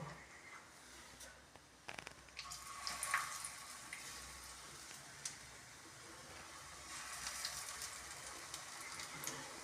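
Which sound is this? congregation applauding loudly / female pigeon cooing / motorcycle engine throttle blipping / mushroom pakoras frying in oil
mushroom pakoras frying in oil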